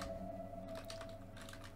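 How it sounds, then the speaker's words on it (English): Keys tap on a computer keyboard as a short word is typed, producing a quick run of light, close clicks over a faint steady hum. "let's type word biker"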